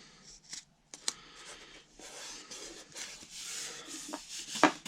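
Tape on a disc golf stencil being cut, a close, quiet run of short snipping and scraping strokes, uneven in rhythm, with no talking.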